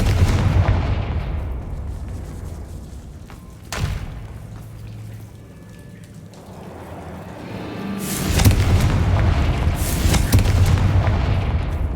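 Confringo fire spells in the video game Hogwarts Legacy go off as heavy booming explosions, one burst at the start, a sharp thud mid-way and a louder rumbling blast that swells near the end, each trailing off.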